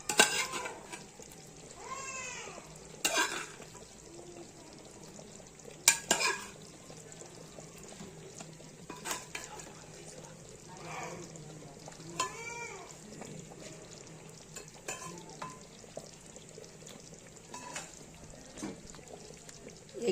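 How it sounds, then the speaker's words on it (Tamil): Boiled eggs go one by one into a simmering egg kuruma gravy and get stirred, with scattered spoon clinks, soft plops and quiet bubbling, plus a few faint chirpy, voice-like sounds. "இப்போ வந்து எக் ஒன்று ஒன்றா நம்ம போட்டுக்கலாம்"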